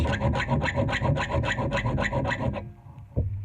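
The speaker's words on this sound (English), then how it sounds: "A little bit dull still there, so I need a little bit more filing out here." Close up, a hand file rasps across the teeth of a handle-duplicating machine's cutter in about a dozen quick, even back-and-forth strokes, then stops.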